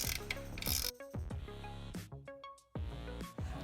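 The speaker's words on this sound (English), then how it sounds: "We're going to remove these nuts with an 11/16 wrench." Metallic ratcheting clicks and clanks of an 11/16 wrench loosening the strut top nuts on a 2014-20 Chevrolet Silverado, in short irregular bursts with brief pauses, close and fairly quiet, with no voices.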